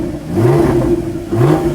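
A rebuilt Porsche Cayman GT4 fitted with a new exhaust revs twice in quick succession, each blip swelling and falling back in a sharp, close, loud snarl.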